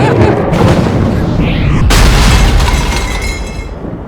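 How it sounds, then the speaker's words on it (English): A loud thunder sound effect cued as lightning: a sharp crack midway through a sustained, rumbling roar that slowly fades. "Cue the lightning."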